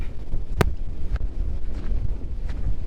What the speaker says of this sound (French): Plus j'avance, plus il y a du vent.